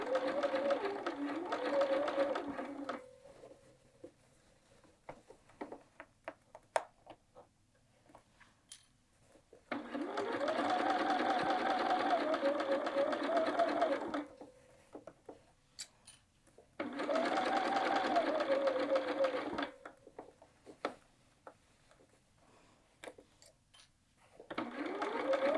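Sewing machine stitching across the binding where the hood attaches to a quilted jacket, running in three steady bursts separated by quiet pauses with small mechanical clicks, close and moderately loud.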